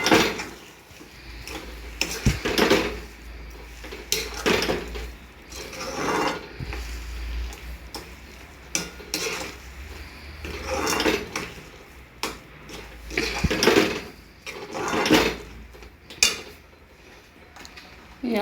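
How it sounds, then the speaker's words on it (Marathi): About one bowl of sugar stirred and sautéed in a pan, with repeated metallic scraping and clinking of a spoon against the pan in uneven strokes, close and fairly loud, with no talk. "साखर छान अशी आपण परतून घेणार आहोत."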